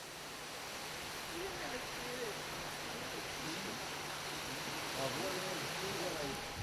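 Steady rushing roar of the Heilongtan waterfall in the Tianhui village valley on Mount Tai, a continuous broadband wash of falling water with faint voices now and then beneath it.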